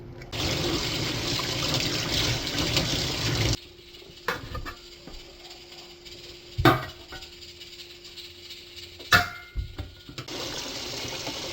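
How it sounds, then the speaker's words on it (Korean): Cold tap water gushes into a container to soak pork ribs, a loud steady pour for a few seconds, then stops, leaving quieter splashes and a couple of sharp knocks and sloshes. "그리고 핏물이 제거되게 2시간 동안 이렇게 찬물에 담가 놓으세요."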